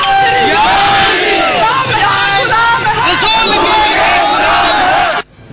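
An angry crowd at a mob attack at Nankana Sahib, Pakistan, shouts and chants in loud, overlapping bursts of raised voices, a dense roar of yelling that cuts off abruptly at the end.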